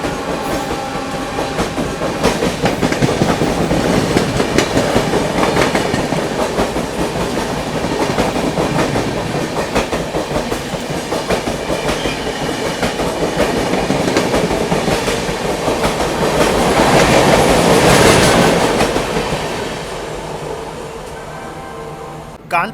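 Subedarganj–Dehradun Express train passing through Govindpuri station near Kanpur, a loud, sustained roar with rhythmic clickety-clack of wheels over rail joints that peaks near the end, then drops off sharply as the last coach clears.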